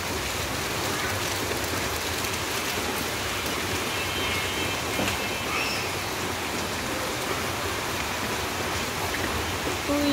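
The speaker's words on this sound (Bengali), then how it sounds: "বৃষ্টি দেখা এখান থেকে।" Heavy rain falls outside a building beside a road, a dense, continuous hiss of downpour that stays loud and even throughout with no break.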